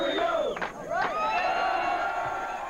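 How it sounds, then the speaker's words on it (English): A rowdy crowd of Pittsburgh Steelers fans, a fan club packed into a restaurant in New Cumberland, cheers and whoops loudly and continuously, with shouting voices overlapping throughout. "Governor Tom Ridge pumps up a rowdy crowd of Steeler fans tonight in New Cumberland."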